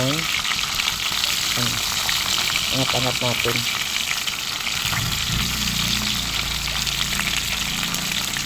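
Fish frying in hot oil, a steady loud sizzle with stirring clatter and brief utensil knocks, a voice speaking briefly over it.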